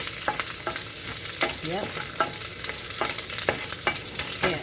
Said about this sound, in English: you know it's frying the garlic